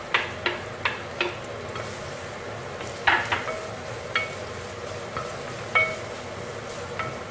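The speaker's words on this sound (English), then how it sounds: "Now you just have to saute this until you see that your onion has become transparent." Red onion and garlic sautéing in a pan, with a soft continuous sizzle under repeated light clicks and taps of a spoon stirring, close and moderately loud with no talking.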